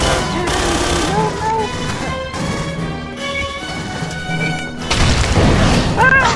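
Explosions and gunfire in the Aliens: Colonial Marines multiplayer video game, with booming blasts and bursts of shots amid game music, the loudest blast hitting near the end.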